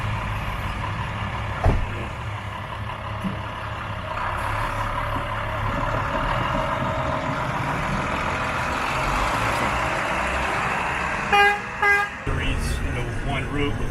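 Department of Public Works snow plow truck rumbling steadily along a snowy road, a low continuous engine drone with brief horn-like tones near the end.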